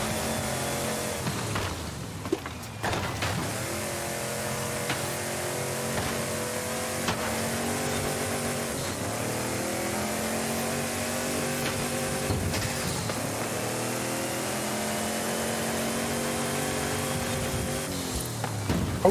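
The Warthog vehicle in the racing game Forza Horizon 5 drives cross country, its engine droning steadily with rising and falling pitch as it shifts and accelerates, plus a few thumps from rough terrain, continuous and fairly loud.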